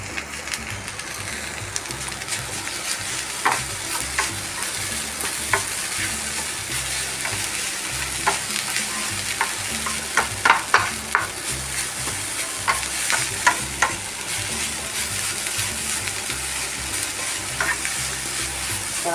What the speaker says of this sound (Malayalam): ഒന്നുകൂടി ഒന്ന് ഫ്രൈ ആയിട്ടെ. ഇവിടെ കുറച്ച് വേപ്പിൻ്റെ ഇല ഇടാം.